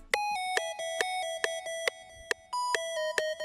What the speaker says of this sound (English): It's basically a square lead, and in this case it's using delay and reverb.